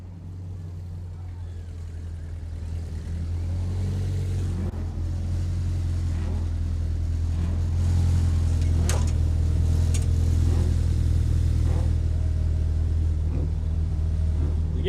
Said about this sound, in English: Dominating fashion here from the little Charade of Dan Pitchfork.